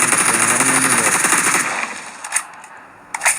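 Rapid automatic gunfire from PUBG in the training room, a dense continuous burst for about 1.6 seconds, then a few sharp isolated shots and clicks with quiet gaps, loud and close with no talking.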